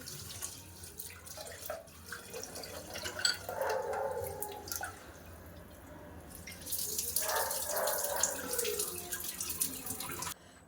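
Tap water runs into a vessel in a home kitchen while rice is rinsed. A soft splashing stream comes in uneven bursts with brief pauses between them, close and fairly quiet, with no voices.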